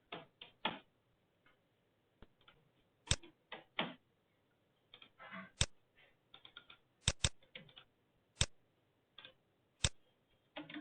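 Irregular clicks of a computer keyboard as text is typed into AutoCAD, with sharp, close keystrokes coming singly and in short bursts and pauses between them, and no voices.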